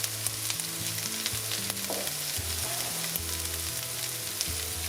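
Food fries in a pan with a constant, even hiss that runs under prominent background music, with no voices.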